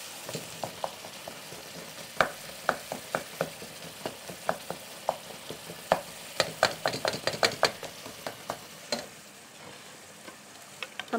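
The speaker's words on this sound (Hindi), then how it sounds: "हमारा मसाला भून सा गया।" Masala frying in a pan while a spoon stirs it, with a steady low sizzle under frequent sharp scraping clicks and knocks that come in quick irregular bursts, loud and close.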